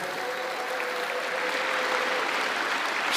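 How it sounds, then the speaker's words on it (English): Conference crowd at a Bitcoin event in Amsterdam applauds a speaker, a steady, even wash of clapping heard from a distance at moderate volume with no voices over it. "Can we get a round of applause for Elizabeth?"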